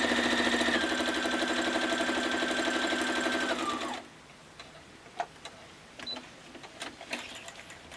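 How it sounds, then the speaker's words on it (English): A sewing machine stitching a quilt block runs steadily and close for about four seconds, then stops, leaving faint clicks and light handling noises. "And now we're going to sew on this line."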